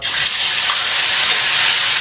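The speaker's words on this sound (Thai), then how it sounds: "พอน้ำมันร้อนนะครับเราก็นำไก่ลงไปเลยครับ" Chicken pieces frying in a little hot oil in a pan, a loud, close, continuous hiss and crackle that holds steady throughout.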